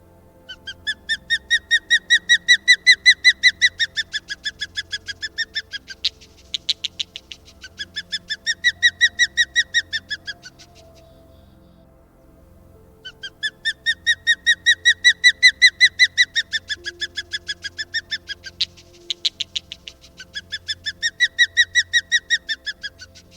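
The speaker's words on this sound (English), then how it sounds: "Osprey, Pandion haliaetus." Osprey (Pandion haliaetus), a fish-hunting raptor of coasts and lakes, gives loud bursts of rapid, repeated whistled calls in several long series separated by short pauses, clear and alone.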